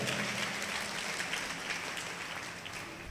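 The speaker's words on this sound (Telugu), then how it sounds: "గట్టిగా చప్పట్లు కొట్టండి" Congregation clapping hands at a church service, a dense steady wash of applause that fills the whole stretch at moderate, even loudness without pauses.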